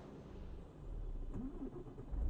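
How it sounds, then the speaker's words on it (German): In Euro Truck Simulator, a Volvo truck's engine cranks and starts. A low rumble swells in the second half into a deeper, louder idle, with no one speaking over it. "Wer hat den LKW angemacht?"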